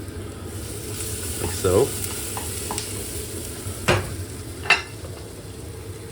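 Onions frying in oil in a pan give a steady close sizzle, broken by a few spoon scrapes and taps, with brief talk over it.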